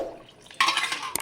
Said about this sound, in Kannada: ನೋಡಿ ಚೆನ್ನಾಗಿ ಬೇಯಿಸಿರೋ ನೀರು ಹಾಕ್ಕೊತಾ ಇದ್ದೀನಿ